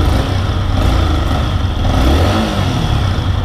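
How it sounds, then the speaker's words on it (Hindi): Close, loud engine of a 2024 Yamaha MT15 with a 155cc liquid-cooled motor, holding a steady idle with a mild rise in revs midway, a dense continuous drone without talking. "बाकी एक बार यहाँ पे भाई इंजन का आवाज।"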